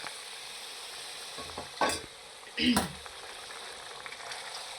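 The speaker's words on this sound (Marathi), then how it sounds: "आता आपण यात मगाशी गरम केलेलं पाणी टाकून द्यायचं." Hot water poured into a sizzling egg tikka masala raises two loud bursts of hissing spatter over a steady background of frying.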